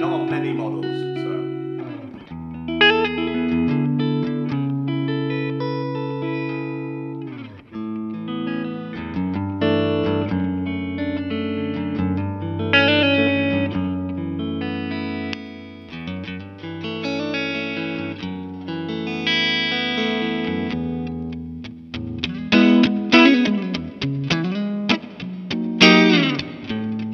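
A 1977 Gibson ES-335 electric guitar in wine red, with a coil-split pickup switch, played through effects: sustained chords and melodic notes with chorus and distortion, growing busier and more percussive toward the end.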